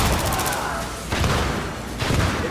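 Battlefield 3 combat with a grenade going off: muffled booming blasts and thuds, the first around the one-second mark and another near two seconds, over a steady rumble of gunfire.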